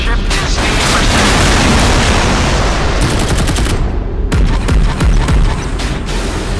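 A missile launch and loud explosions from a warship in the naval combat game Modern Warships, a continuous roaring barrage with heavy booms and a brief drop near the middle, with voice reports layered in.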